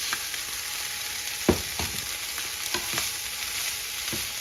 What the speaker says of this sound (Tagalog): let it brown for like few minutes